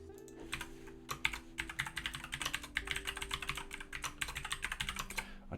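Rapid typing on a computer keyboard, close and fairly quiet, with dense irregular key clicks over a low steady hum and no speech.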